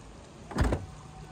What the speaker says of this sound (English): this is the button to close the tailgate